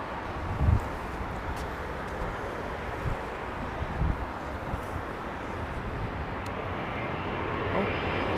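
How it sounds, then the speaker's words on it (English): An airplane at London Heathrow Airport, a broad steady engine roar that swells slightly toward the end, with wind buffeting the microphone in a few short bumps. "That's the plane."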